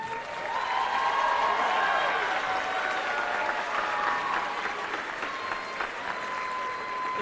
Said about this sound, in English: Please give a round of applause to the band members.